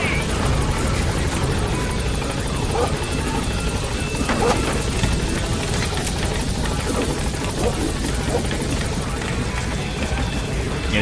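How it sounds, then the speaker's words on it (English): A helicopter in Metal Gear Solid V roars with dense rotor and engine noise near at hand, carrying on without pause through the whole stretch while other game sounds and faint clatter mix in. "so let's call the helicopter."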